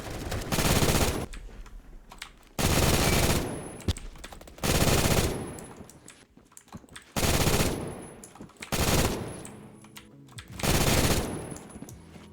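An MG3KWS machine gun in Roblox Phantom Forces fires in long sustained bursts, six loud stretches of rapid automatic fire separated by short gaps, with no voices over it.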